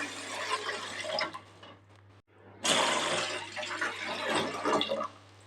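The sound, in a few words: pouring five cups of water into a heavy-bottomed pot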